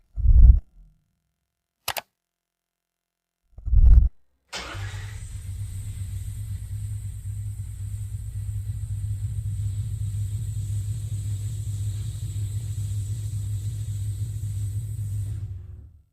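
A BMW E92 fitted with a V8 engine, built for drifting, starts for the first time: a few short mechanical clicks and cranking bursts, then the engine catches and settles into a loud, steady, deep idle rumble that runs on alone.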